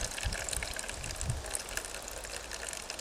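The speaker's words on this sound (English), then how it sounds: "this is the Flow and Go water filter. You can see it's just gravity feeding down through the Sawyer Mini here." Water trickles and gushes steadily as it gravity-feeds through a Sawyer Mini water filter on a Flow and Go setup at a wilderness camp in Canada, a continuous bright splashing hiss close by.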